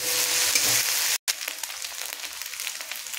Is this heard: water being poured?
no